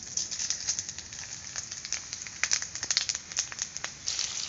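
Cumin, cardamom, cinnamon, cloves and broken dried chillies fry in hot oil, giving a dense run of small crackles and pops over a soft continuous sizzle.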